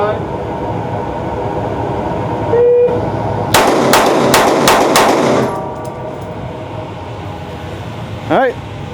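Rapid pistol fire from a SIG 365X Macro micro-compact at an outdoor range: a quick string of about five sharp shots close together, loud over steady background hum, with talk nearby before and after.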